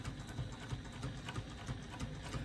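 A sewing machine top stitches through several layers of fabric along a bag lining seam, a quiet, close, rapid and even mechanical whirring with a regular stitch rhythm and no talking.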